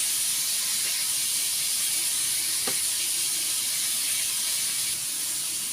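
Ingredients sauté in a pan with an even, unbroken hiss of steam and sizzle, close and fairly loud, marked by a single soft click midway.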